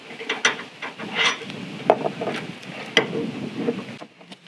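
A trailer jack raises the tongue of an Oliver travel trailer during hitching, giving uneven mechanical ratcheting clicks and creaks with a few sharper knocks, fairly close and without talk.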